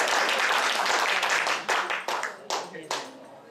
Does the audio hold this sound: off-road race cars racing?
no